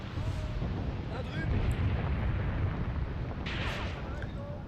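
Artillery fire crashes down in Graviteam Tactics: Mius Front, a continuous heavy rumble of shell impacts and debris with a hissing burst partway through.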